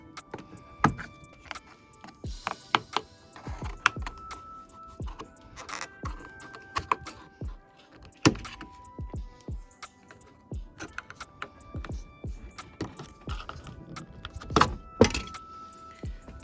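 Plastic trim piece being pried out of a car door panel, with repeated sharp clicks, snaps and scraping taps close by, irregular and scattered across the whole stretch, no talking.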